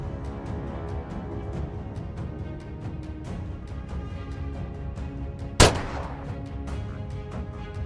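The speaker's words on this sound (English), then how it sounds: "every corner of the Australian countryside is bustling with the sound of gunshots" A single sharp gunshot cracks out once, loud and close, partway through a steady musical background during wild boar hunting in the Australian countryside.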